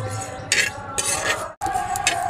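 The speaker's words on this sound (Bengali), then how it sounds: "এবার সবকটা উপকরণ ভালো করে ভেজে নেব" Coriander, cumin and fennel seeds dry-roast in a pan, with a utensil scraping and clinking against the metal in a few repeated strokes, close and fairly clear with no talk.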